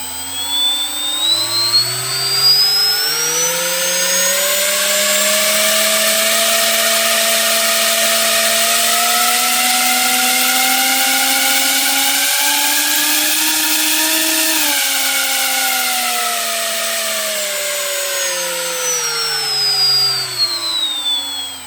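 An RC electric motor driven through its ESC throttle range spins up from low to a loud, high-pitched whine, holds steady near full speed, then winds back down, alone with no talk.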